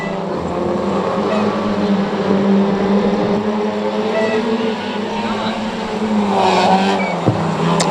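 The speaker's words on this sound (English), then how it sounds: "So the green flag drops on Pro Stocks heat number 2" Pro stock race cars roar off at the start of a heat at Cowdenbeath Racewall, engines droning loud and steady with some tyre noise, while a commentator talks over them throughout.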